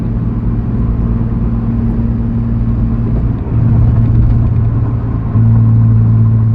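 Inside a Nissan 350Z with a newly installed engine cruising at about 60 mph around 2,500 RPM: a loud, steady engine drone with road rumble, the tone shifting slightly partway through.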